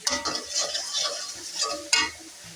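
A utensil scrapes and stirs spices in a pan during frying of chicken, giving quick rhythmic scraping strokes with a sharper clack near the end, close and loud with no talk.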